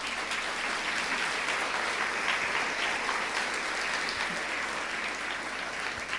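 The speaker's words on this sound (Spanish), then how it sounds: "Denle un aplauso a Jesús por ello." Church congregation applauding after a sermon line, a steady dense wash of clapping from a crowd that holds evenly for about six seconds without talk over it.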